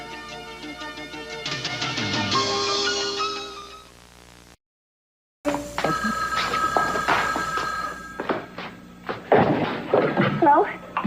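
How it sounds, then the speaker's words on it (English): A telephone bell rings in a soap-opera drama scene, loud and sustained before breaking off abruptly, followed after a pause by further rings mixed with clattering and bumping noises. "Gina, I have been waiting for your phone call"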